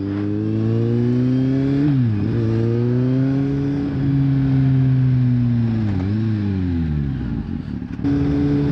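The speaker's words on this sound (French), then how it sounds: "J'espère qu'on m'entend avec le bruit de la moto" A Kawasaki Z750 motorcycle engine runs steadily and loudly up close, its pitch dipping and rising twice as the rider eases off and accelerates again.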